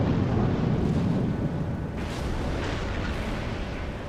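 Warship cannon fire in the World of Warships game, a heavy booming blast at the start that rolls off into a long rumbling decay, loud and close.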